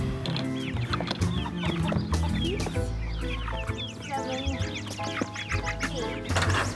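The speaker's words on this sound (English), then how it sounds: "the gang's all here, happy chicks" Backyard homestead chickens cluck and chatter in an overlapping flock, close and steady, with a rooster-like call in the mix and no talking over them.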